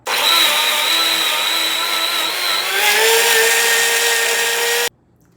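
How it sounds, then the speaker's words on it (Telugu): A mixer grinder whirs loudly, blending a breakfast drink with water, its motor a steady high whine that shifts pitch partway through before cutting off abruptly near the end. "సో మనం ఇప్పుడు ఇదంతా గ్రైండ్ చేసేసుకుందాం."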